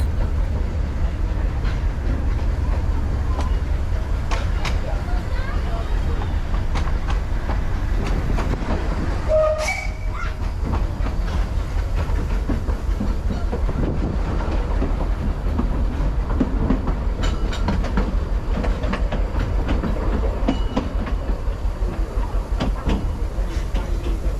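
A narrow-gauge Vale of Rheidol Railway train departing Aberystwyth rumbles steadily along the rails with faint rhythmic clatter, and a brief horn sounds partway through before the running noise continues.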